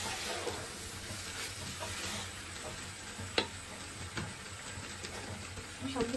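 Khichuri with capsicum sizzles and fries in a pan while being stirred, a steady close crackle with occasional spoon clicks against the pan and a voice talking faintly.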